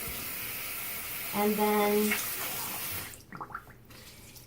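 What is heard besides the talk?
rinsing with warm water from a tap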